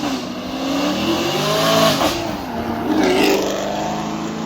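A Camaro and a Supra accelerate hard at a street car meet in New York, engines rising and falling in pitch as they rev, loud and fairly close, with a faint tire squeal.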